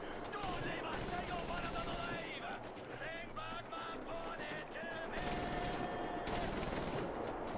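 Rapid bursts of gunfire in the shooter game Wolfenstein: The New Order, loud and dense at the start, easing off in the middle and returning near the end, with game voices and a player talking over the shots.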